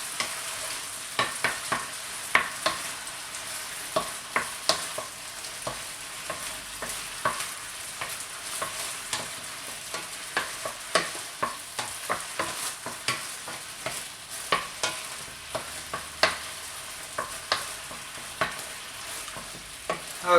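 Liver and kidney for dog food browning in a pan, a continuous close sizzle with frequent crackles and spitting pops, steady throughout with no voices.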